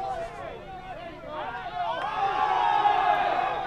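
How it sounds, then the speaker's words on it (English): Spectators at a 2014 girls' high school soccer game, Uintah at Union, break into loud hubbub and rising shouts after a referee's call, swelling into sustained noisy crowd roar near an overhead ambient mic. "I think the crowd got that call, because it wasn't until they all went crazy"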